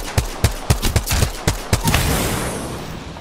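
Gunfire in Apex Legends: a rapid series of about eight loud, sharp shots in irregular rhythm, close up, followed by a lingering echoing tail.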